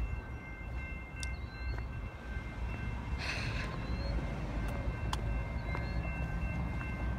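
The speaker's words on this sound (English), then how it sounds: "There's the train." A train rolls past in a steady, continuous rumble that holds at a fairly loud level from start to finish, with a few faint higher squeals over the top and no talking.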